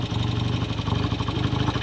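A 1969 BSA Lightning 650 motorcycle engine runs steadily after a kick start, a close, loud, even mechanical idle with a rapid pulsing beat and no talking over it.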